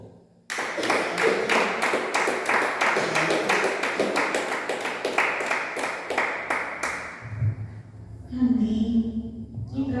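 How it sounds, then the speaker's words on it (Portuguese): A church congregation applauds in steady, rhythmic unison claps that carry for several seconds, then stop abruptly as a voice begins speaking. "Você pode aplaudir o Senhor?"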